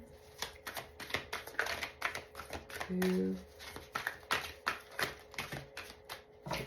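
Cards being shuffled in quick riffling bursts of crisp flicks and taps, with a voice counting briefly partway through.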